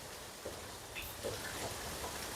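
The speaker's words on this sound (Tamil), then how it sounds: "மழை வந்து லைட்டாக தூறிக்கொண்டு தான் இருக்குது" Light rain drizzles steadily outdoors in Jaffna as wind blows, a soft, even hiss with scattered faint drop ticks and no voices.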